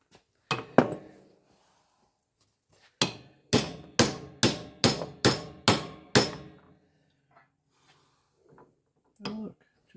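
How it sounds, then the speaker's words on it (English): A Corvette part is hammered out on scrap metal in a few sharp metallic blows, then a steady run of six evenly spaced ringing strikes, close and loud, with quiet handling noises afterward. "just the right size for me to hammer this out now"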